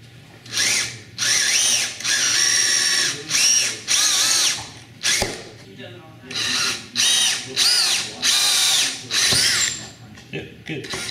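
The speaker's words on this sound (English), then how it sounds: "just go ahead and keep drilling straight through" A handheld power drill bores holes while a gearbox is fitted into a robot drivetrain, the motor whining up in about nine separate bursts with short pauses between them, close and loud.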